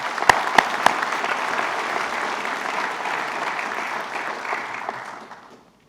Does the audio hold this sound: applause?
yes